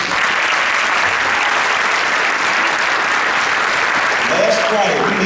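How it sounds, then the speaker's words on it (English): Steady, loud applause from a large audience at a city State of the City address in East Orange, with dense clapping sustained throughout and some voices mixed in near the end. "Give them a round of applause, please."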